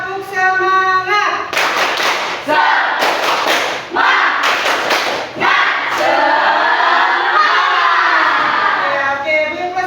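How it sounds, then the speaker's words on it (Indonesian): A school class performing a tepuk semangat clapping chant, with bursts of rhythmic group clapping mixed with voices chanting in unison, loud and close. "Kalau kamu bilang tepuk semangat, semangat, semangat."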